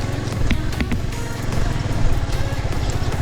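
Yamaha R15 motorcycle ridden in first gear over a long stretch of rough terrain in Jambughoda Wildlife Sanctuary, Gujarat, with a steady close engine drone and rattling bumps under it.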